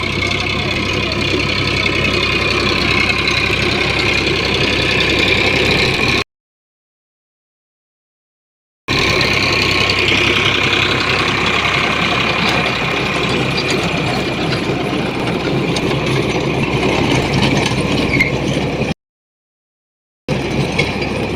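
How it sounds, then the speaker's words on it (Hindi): A tractor engine ploughing a field in a loud, steady mechanical drone with a rattling, ratchet-like texture, broken by two short silent gaps. "ट्रैक्टर इस वक्त जो है खेत की जुताई कर रहा है बड़े ज़बरदस्त अंदाज में।"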